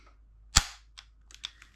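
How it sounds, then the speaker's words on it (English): Viper Tech M4 gas blowback airsoft rifle with a heavy bolt fires once, a sharp loud crack followed by a few faint mechanical clicks and rattles, close up. "That's just the sound of the trigger."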